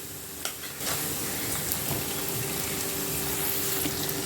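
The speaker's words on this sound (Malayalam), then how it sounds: "ഇതിലേക്ക് നമുക്ക് ഒരു 2 ടേബിൾ സ്പൂൺ തൈര് ചേർത്ത് കൊടുക്കാം." Yogurt goes into a hot pan of filling for a cheesy half-moon pie, bringing a sudden burst of loud, steady sizzling that carries on with faint stirring clinks.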